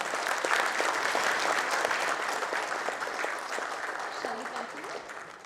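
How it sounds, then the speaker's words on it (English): Sustained audience applause at a customer meet in Pune, dense steady clapping that holds for several seconds and slowly tapers, with faint voices underneath. "I think we should give a bigger and a bigger applause."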